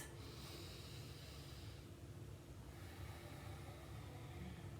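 Slow, deep breaths drawn through the back of the throat during a warming, energizing breathing exercise, a faint airy rush rising and falling with one long inhale and exhale alone in a quiet room.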